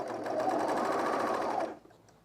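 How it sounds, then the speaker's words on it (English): A sewing machine stitches a shirt lining in a steady, fast, close-up whir that runs without a break for nearly two seconds and then stops, leaving a faint quiet hum. "Now I am sewing up the lining"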